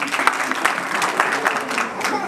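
A crowd at a fundraising event applauds a pledge of 2000 with brisk, continuous clapping that carries on steadily for a couple of seconds, fairly close and moderately loud.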